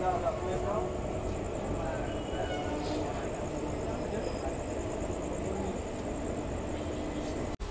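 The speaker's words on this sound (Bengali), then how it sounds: "সাঁতরাগাছি থেকে কিন্তু আমাদের ট্রেন ছেড়ে দিল।" Night passenger train from Kolkata to Puri, departed Santragachi, running with a steady rumble and rattle of carriages, continuous and fairly loud throughout with a brief click near the end.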